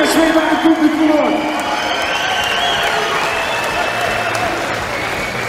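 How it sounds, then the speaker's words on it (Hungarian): Audience applause and cheering fill a boxing event arena, a dense crowd clapping steadily for several seconds with a few louder bursts at the start, and an announcer's voice carries over it. "Addig egy bíztató tapsot szeretnék kérni Kovács Gyulának."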